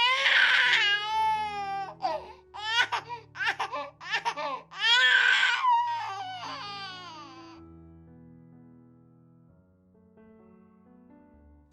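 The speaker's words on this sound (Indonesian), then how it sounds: "Terdengar tangis melengking dari bayi berjenis kelamin laki" A newborn baby boy cries in a delivery room just after birth, loud shrill wails in bursts over several seconds, then fading into quiet room tone.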